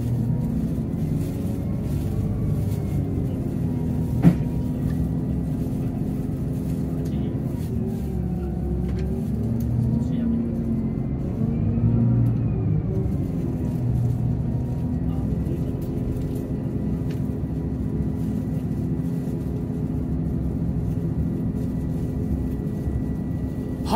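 A Japanese diesel limited express railcar's engine drones low and steady as it pulls away, rumbling continuously with a brief sharp knock near the start.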